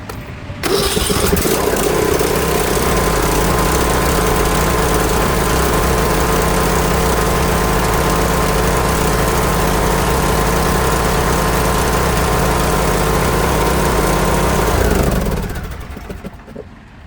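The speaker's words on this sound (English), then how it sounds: "Gonna start the engine again." An Ariens riding mower engine cranks and catches, then runs steadily at a loud, constant drone for about fifteen seconds before cutting off.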